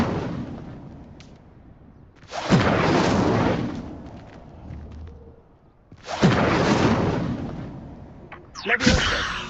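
Two big fiery blasts from a Hogwarts Legacy spell, each a sudden loud roaring burst that swells and slowly fades, separated by quieter stretches, with a third blast starting at the very end; close and forceful, no talk.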